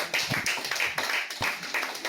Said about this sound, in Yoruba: Ẹ pàtẹ́wọ́ fún Dípọ̀.